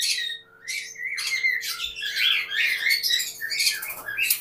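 Lutino cockatiels squawk and chirp in a cage in a series of loud, harsh, overlapping calls that carry on almost without pause from close by, with no talking.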